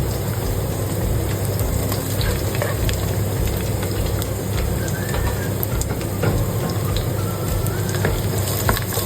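Garlic fries in oil in a pan for chicken adobo, a dense, continuous crackling sizzle held at an even, fairly loud level throughout, with no talking.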